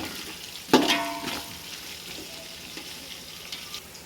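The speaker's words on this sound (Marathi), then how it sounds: "आता ह्यात घालूया आपण मिरच्या, चांगल्या परतून घेऊया." Green chillies hitting hot oil with ginger-garlic paste in a pan for khichdi, a sudden loud burst of sizzle that settles into a softer continuous frying hiss with faint stirring.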